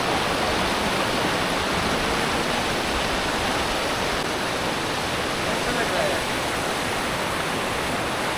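Devkund waterfall roars as a steady, dense wash of rushing water, loud and close with no break, filling the whole stretch.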